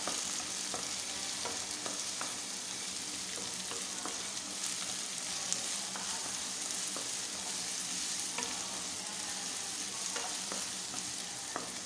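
Onions sautéing in a pan for a green mung bean dish, with a steady crackling sizzle throughout and occasional stirring scrapes, close and continuous with no voices.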